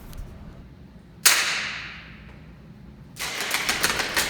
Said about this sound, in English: Here I have a cap gun. Every time I fire it, I throw a treat.